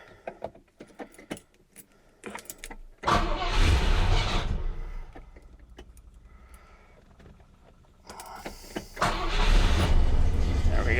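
Rover P6 engine cranking and catching on choke, a loud rough idle surging for several seconds, settling lower, then revving up strongly again; keys jangle and small clicks come just before the start.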